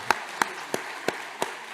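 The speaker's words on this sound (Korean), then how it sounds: "박수 부탁합니다" A small congregation in a church claps after an infant baptism, giving half a dozen sharp, evenly spaced claps at a steady rhythm, fairly quiet and with no talk over them.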